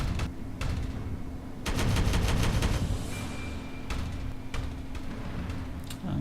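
Gunfire in the video game Regicide, a dense run of rapid shots bursting over steady game ambience and rumble, with a few separate sharp reports following, close and loud without talk.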